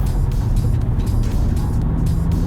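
Steady engine and road drone inside a 2020 Peugeot 3008 GT Line cabin with sport mode engaged, a constant low rumble that stays loud and even throughout, with no talking.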